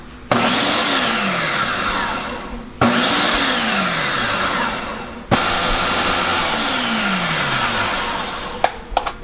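A countertop blender purees tomatoes, jalapeno and garlic for salsa, starting in three loud whirring pulses whose motor pitch sweeps down as the chunks break up, ending with a few knocks.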